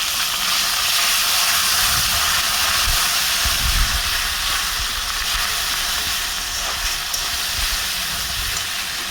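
Ginger-garlic paste goes into frying onions for a chicken curry, producing a loud, constant hiss of sizzling with faint low bumps from stirring underneath.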